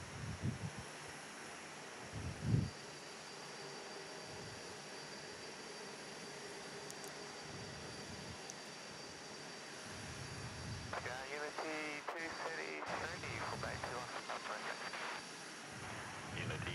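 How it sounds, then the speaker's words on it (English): Arriving Fokker airliner at Perth airport, a distant, steady engine rumble and whine heard outdoors in wind, with brief radio chatter in the final seconds. "There's that arriving Fokker there for you."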